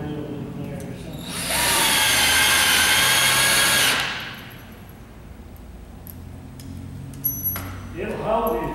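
A power drill drives a screw into a plywood floor: a close, loud whirring run of a couple of seconds that winds down, then quieter handling noise and a short second burst of the motor near the end.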